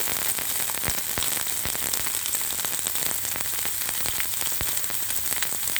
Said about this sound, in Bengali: সবগুলি উপকরণ একটু লাচে লাচে করে ভেজে নেব